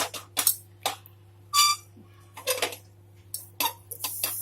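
Metallic scrapes and clinks of tongs against an oiled wok as it is swirled, in short irregular bursts with a steady low hum underneath.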